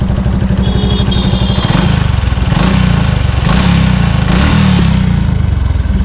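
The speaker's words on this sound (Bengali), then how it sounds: "শুনতে পাচ্ছেন একটা চিনচিন সাউন্ড করতেছে এটা মেইনলি হচ্ছে ট্যাপেটের সাউন্ড করতেছে" A Suzuki Gixxer motorcycle engine idles loudly and close up, with a fast, even mechanical ticking from loose tappets riding over the steady low rumble.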